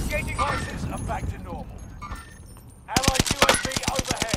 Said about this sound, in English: I'm getting shot at by the bots.